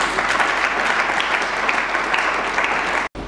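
Applause from an audience at a university degree ceremony in Lubumbashi, Congo: dense, sustained clapping from many hands, loud and even throughout, cut off abruptly near the end.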